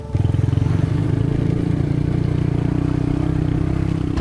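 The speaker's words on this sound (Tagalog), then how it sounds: "Dahil hindi na makadaan ang 4x4 na service ng mga rescuer, sumakay sila sa motor." A rescuers' motorcycle ridden along a rough, broken road in Mindoro, its engine droning loud and close with steady revving, under a constant rattle and clatter from the bumpy ride.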